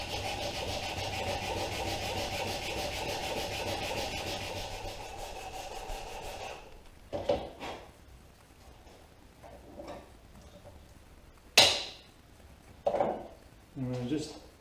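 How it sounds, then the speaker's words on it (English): Steady rasping strokes of a simple sanding block against a wooden aircraft horizontal stabilizer fill the first half, then stop, leaving quiet with a few scattered knocks and handling sounds. "I just have a little simple sanding block"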